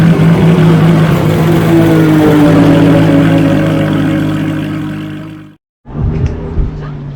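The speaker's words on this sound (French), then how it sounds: "610 chevaux de bruit, moteur atmosphérique V10" A Lamborghini Huracán LP610 with a 610-horsepower naturally aspirated V10 rumbles steadily up close, its tone sliding slightly, then cuts out briefly near the end before resuming.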